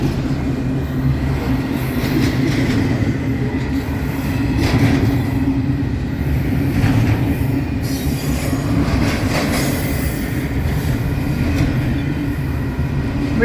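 Union Pacific train with the 1943 Spirit of the Union Pacific rolls past close by, a loud continuous rumble of wheels with rhythmic clickety-clack and occasional squeal.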